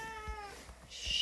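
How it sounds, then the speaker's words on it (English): A pet cat lets out a short, faint meow that trails off, followed by a quiet rustle and a sharp hissy noise at the end. "Sorry, that's my cat if you can hear him."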